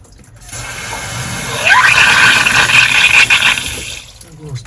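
Water gushes steadily through a boat generator's cooling hose, freshly cleared after a corroded anode had blocked it. The flow is close and loud, rising in over a few seconds and then tapering off.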